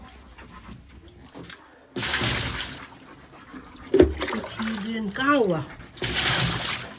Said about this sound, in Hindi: डालो डालो पानी।